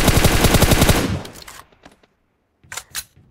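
Rapid automatic gunfire in PUBG rattles loudly and close for about a second, then a few scattered reports and two more bursts follow after a brief silence.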